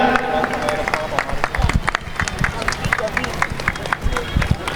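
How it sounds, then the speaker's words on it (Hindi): Audience applause at a children's Ramlila event, a dense wash of clapping and crowd hubbub with cheering voices mixed in, steady and fairly loud throughout. "जोरदार तालियां।"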